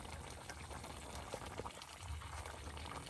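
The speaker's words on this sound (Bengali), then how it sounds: "এই যে লাউ ঝোল কালাই দিয়ে লাউ ঝোল কিন্তু পাগানো হয়ে যাবে" Bottle gourd curry with kalai dal bubbling in a pot, a dense, steady low rumble of boiling with soft pops, close and continuous, with no talking.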